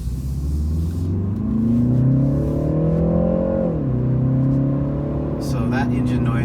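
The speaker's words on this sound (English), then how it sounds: "So that engine noise is coming in, and I do like how that sounds." A 2019 BMW 330i xDrive G20 in sport mode drives with a steady, loud engine drone whose pitch climbs, dips and settles as it accelerates, continuous throughout.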